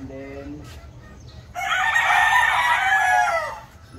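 A pure Perfection Roundhead rooster stag lets out one loud, strained crow lasting about two seconds, close by, with farm ambience and a faint voice before it.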